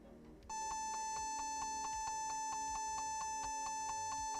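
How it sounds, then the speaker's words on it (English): A Compaq Presario F500 laptop beeps steadily at power-on, a rapid, regular train of bright electronic tones repeating over several seconds, close and fairly loud with a low hum beneath. "It does beep quite excessively when you turn it on, which you will hear now."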